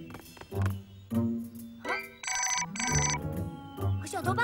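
A GPS phone smartwatch rings in a cartoon, giving two short bright electronic ring bursts amid music and animated voices speaking.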